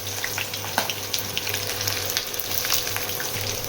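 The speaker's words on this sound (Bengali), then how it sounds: "পেঁয়াজটা ভেজে নেব।" Onion fries in mustard oil in a kadai, giving off a steady, close crackling sizzle with quick pops and light stirring scrapes throughout.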